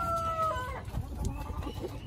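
Chickens perched up on a PVC automatic feeder setup, clucking and cackling close by, with a drawn-out call at the start and scattered clucks following.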